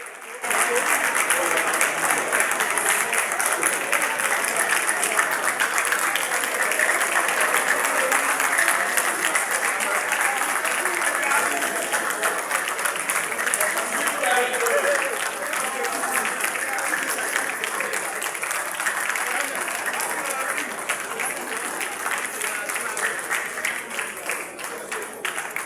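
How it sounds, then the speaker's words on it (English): Resounding applause fills the Lagos State House of Assembly as Obasa is reinstated as Speaker: dense, sustained clapping from a large chamber crowd, steady and loud throughout with no pauses. "Now, this is the very moment when Obasa was greeted with a resounding applause in the House."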